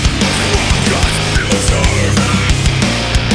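A dense, loud acid techno metal breakdown layering Infiltrator synths over pounding low rhythmic hits and distorted, churning textures, continuous with no pauses.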